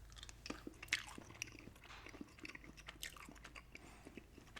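Close, quiet chewing of Mike and Ike Thrill Ride Mix fruit candies, irregular soft bites and sticky mashing with occasional crisp clicks, no talking.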